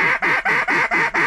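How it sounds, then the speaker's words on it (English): Ducks near hunting decoys quack loudly and close in a rapid, evenly spaced run of about six harsh calls. "Those are ducks."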